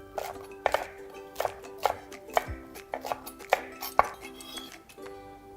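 A knife chops green onions on a cutting board in quick, irregular strokes, each cut a sharp close tap, with a soft steady hum running underneath.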